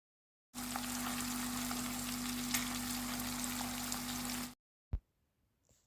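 Stuffed peppers fry in hot oil, a loud continuous sizzle lasting about four seconds that then stops abruptly, followed by a single sharp clink and near silence.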